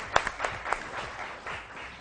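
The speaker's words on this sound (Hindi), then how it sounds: "बहुत सारी तालियां" Studio audience applause on a Pakistani morning talk show, a short burst of scattered claps with a few sharp louder hits, fading into a light ongoing patter.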